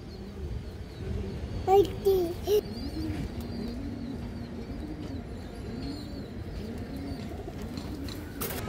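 Pigeons cooing in soft, repeated rounded calls close by, a steady low murmur of several birds, with a few brief sharper chirps and a voice early on.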